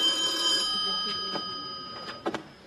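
A telephone rings during an outdoor amphitheatre stage performance of a Greek play, a faint electronic ringing heard under actors' speech and stage noise, with a couple of sharp knocks near the end.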